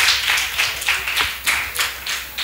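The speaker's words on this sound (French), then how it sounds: "Sous vos applaudissements, s'il vous plaît." An audience at a French-language talk on logistics claps in a steady, rhythmic patter of distinct hand claps, close and fairly loud, with no voices over it.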